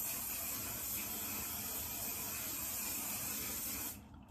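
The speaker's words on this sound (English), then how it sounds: "I just gotta spray it." A continuous close aerosol spray of Garnier Fruity Style Sleek and Shine hairspray hisses for about four seconds, then cuts off.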